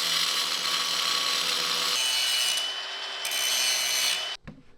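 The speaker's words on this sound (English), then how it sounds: "I think I'm just gonna cut the bolt." Cutting through a metal bolt on a jet ski with a saw or cutting tool: a steady, harsh, bright grinding rasp held for about four seconds, then abruptly stopping with a brief clunk.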